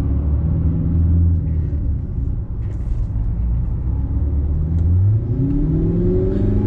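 An Audi R8 engine rumbles loudly from inside the car while driving, with a deep steady drone and rising revs as it accelerates near the end.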